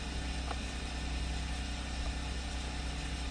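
A 2018 Ford Fiesta 1.0 ST Line engine runs steadily with the bonnet open, a constant close idle hum with a faint chain-like rattle and no talking.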